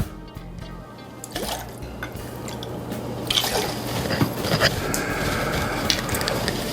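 Lemonade pouring as the base of a purple wedding cocktail, a steady close liquid trickle with drips that grows a little louder in its second half, with no voices.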